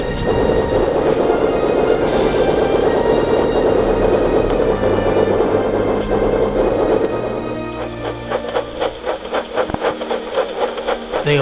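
A train rolls steadily along the track with a dense mechanical rumble and hum. It then shifts into rhythmic clicking and chuffing beats in the last few seconds, close and loud, with no voices.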